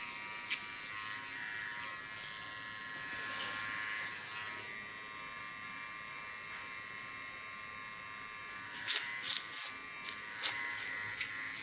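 A small electric hair clipper buzzes steadily at close range while cutting hair, with a few brief snipping or rustling bursts near the end and no speech.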